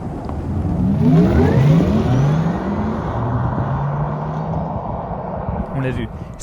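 A Porsche Taycan 4S electric sports car accelerates with a rising synthetic whine that climbs in pitch over a steady road rumble, loud and close.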